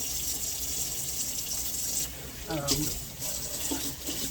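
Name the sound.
running tap water washing out reusable cheesecloth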